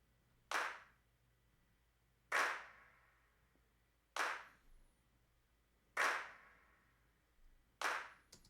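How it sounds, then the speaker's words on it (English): Layered handclaps in a music production, each hit carrying a roomy bedroom-clap reverb tail; five sharp, evenly spaced claps about two seconds apart, close and loud against a quiet background. "So it's like more people are clapping."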